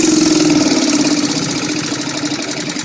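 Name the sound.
new engine-driven welder running loudly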